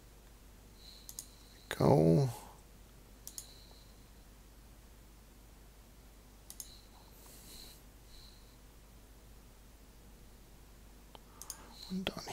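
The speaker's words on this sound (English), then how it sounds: "Oops, was accidental right click." A single computer mouse click during a virtual tabletop battlemap session, faint and near, followed by brief soft clicks amid quiet room noise and a short spoken word.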